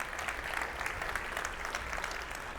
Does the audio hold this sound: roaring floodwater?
no